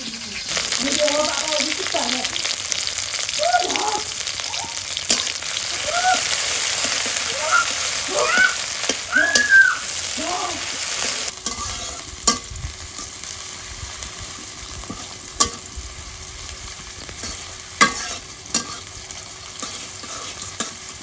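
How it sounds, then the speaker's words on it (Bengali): Okra frying in a pan in a village kitchen, a steady close sizzle with scraping stirs; someone talks over the first half, then the frying continues alone with a few sharp clinks. "ভেন্ডি ভাজি করলাম"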